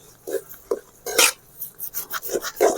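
Prawn kurma masala is stirred in a pan with a spoon, making repeated scraping and rubbing strokes in an irregular rhythm, close and fairly loud, with no voices.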